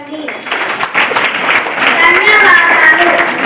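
A group of schoolchildren at a school general-knowledge quiz activity claps together in dense, steady applause that builds and holds, with voices mixed in.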